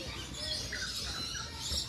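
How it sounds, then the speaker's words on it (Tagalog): Many birds in a zoo aviary at Taronga Zoo, Sydney, giving faint, scattered high chirps and tweets over a steady background hiss, with no talking. "Oh, ang daming ibon."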